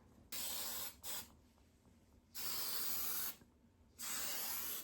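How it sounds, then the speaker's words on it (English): Hairspray misted onto styled curls in three short hissing bursts, close and clear, separated by quiet pauses, with no talking. "we are going to apply again hairspray"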